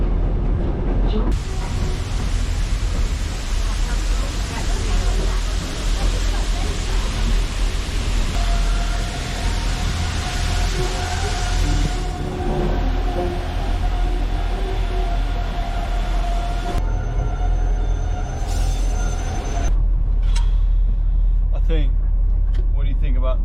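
An old train, about 130 years old, rumbles steadily through rainforest with a constant low roar and rattle, a sustained tone rising partway through, and people talking over the noise.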